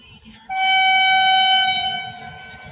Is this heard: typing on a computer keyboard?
no